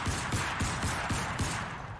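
Pistol shots in the video game Crysis Remastered, a steady series of about six evenly spaced reports over a constant loud background of game ambience.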